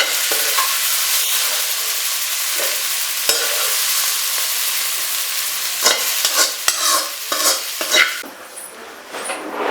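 Masala spices fry in oil in a pan while a spoon stirs them, giving a continuous bright sizzle broken by several scraping, clinking strokes against the pan toward the end, close and fairly loud with no talking.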